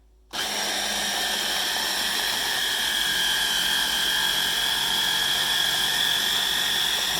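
Electric hand mixer whirling butter and cream cheese frosting for cinnamon rolls, a steady high-pitched motor whine that starts abruptly and holds loud and unbroken with no talking.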